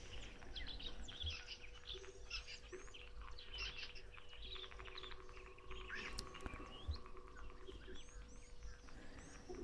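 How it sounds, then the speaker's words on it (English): Many weaver birds call and chatter all around a waterhole, a dense, continuous mix of bright chirps and twitters at moderate distance, with a steady low hum underneath. "I can hear plenty of weavers all over the show."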